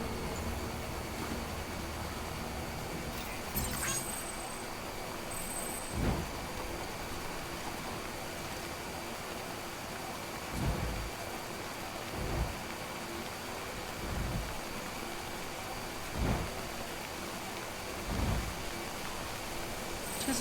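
Timefall rain pours steadily in the Death Stranding video game, a constant hiss of rainfall broken by several muffled thuds and distant thunder rumbles spread across the stretch.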